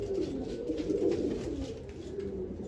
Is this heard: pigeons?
yes